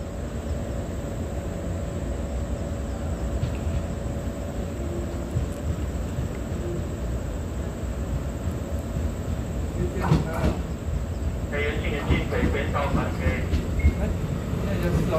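A Taiwan Railway train passes on the left at a station: a steady, loud rumble of wheels and motors throughout, with rail clatter building near the end and voices faintly underneath.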